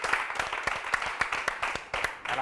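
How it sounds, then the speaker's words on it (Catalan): A studio audience on the Catalan quiz show Pica Lletres claps in a brief, moderately loud burst of separate hand claps. "Un aplaudiment per ella."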